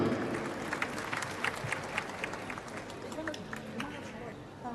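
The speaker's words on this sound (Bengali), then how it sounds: "একটা জোরে করতালি দেন এই মামনিটার জন্য" An audience at an award ceremony claps for a girl, a broad patter of applause filling the room under a voice over the sound system.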